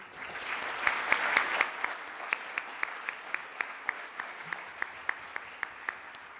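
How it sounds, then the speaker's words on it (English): Audience applause at a Year 12 graduation ceremony for the house captains, starting as dense clapping from a crowd, then thinning to a few sparse, regular claps that continue alone to the end. "Please can we give them a round of applause."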